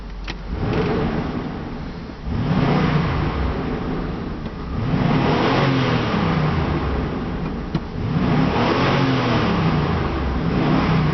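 A 1997 Chevrolet Suburban LT engine running close by, idling and then revving in several rising surges of roughly two to three seconds each, loud and clear with no talk.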